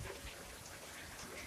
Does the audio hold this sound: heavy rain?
yes